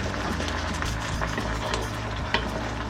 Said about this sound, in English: So now we're going to just mix everything in.